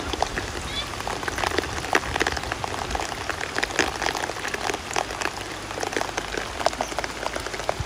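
Torrential rain hammers down in a thick, continuous roar of spattering drops, loud and close, with water splashing up from the ground.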